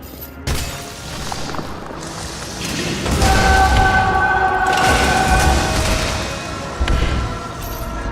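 A shootout in the video game Nobody Wants to Die: heavy booming shots and thuds, loud and near, with a resonant ringing tail between blasts and no speech.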